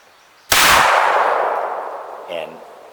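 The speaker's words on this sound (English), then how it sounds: "Now this should fire the 410." A Savage 24 over-and-under rifle fires its lower .410 shotgun barrel once at a target, giving a single sharp, loud report that rings and decays over about two seconds, followed by a faint mechanical click.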